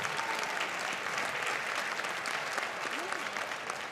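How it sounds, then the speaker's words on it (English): A school winter concert audience applauds the fourth grade band, with steady, dense clapping from a large crowd holding at an even level throughout. "Let's get one more round of applause for the fourth grade band that just got off the stage."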